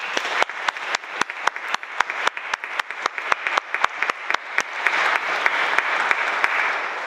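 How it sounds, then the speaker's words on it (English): A school audience at a Year 11 prize day applauds with steady, rapid claps that build into a dense, sustained ovation filling the hall, with no voices over it. "Let's give them all a round of applause."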